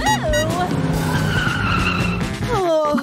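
A car-driving sound effect plays loud and close: a revving engine with squealing tires and skidding, pitch sweeping up and down, under a bright cartoonish music-like layer.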